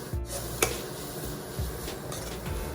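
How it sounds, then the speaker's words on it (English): Chopped carrot, cabbage and capsicum are stirred in a pan over high flame for vegetable momo filling, a soft steady sizzle with occasional utensil scrapes and taps against the pan. "Keep stirring this on a high flame."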